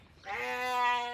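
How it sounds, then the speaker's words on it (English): A young lamb gives a single drawn-out, wavering bleat lasting about a second, fairly soft and alone, with no voices. "May's brought me 2 new lambs."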